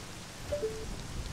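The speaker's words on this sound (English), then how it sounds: "Well, at least it's raining." Steady, soft rainfall in a video game patters continuously, a faint even hiss with no voices.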